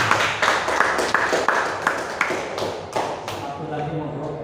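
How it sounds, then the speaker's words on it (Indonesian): A crowd of teachers at a school gathering claps for a speaker, giving steady, fairly rhythmic applause with distinct sharp claps. The clapping fades toward the end, and faint voices sit underneath. "Kita beri aplaus untuk beliau."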